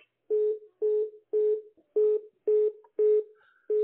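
A telephone ringback tone follows a dialed call: seven evenly spaced short beeps, clear and steady, with no voices over them.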